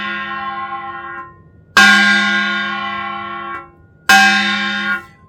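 Three ringing strikes on a kkwaenggwari, a small Korean brass gong, each bright metallic clang sustaining for a moment before the palm damps it, the later two louder and cut off sharply.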